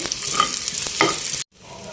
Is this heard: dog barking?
no